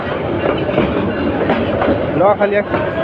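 The Upakul Express intercity train, hauled by a Hyundai 3000-series diesel locomotive, rumbles loudly past close by at Bhairab Bazar Junction, wheels clattering steadily over the rails with a heavy, continuous roar.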